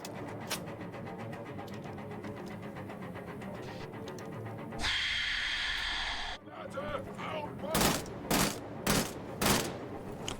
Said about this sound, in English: Shot him several times while he had that grenade in his hands